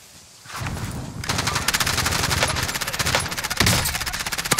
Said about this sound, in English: I think we're getting sniped at